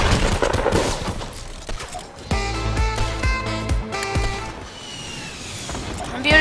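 Rapid bursts of gunfire in the video game Fortnite crackle loudly, mixed with game effects and music, while a player talks over the shooting.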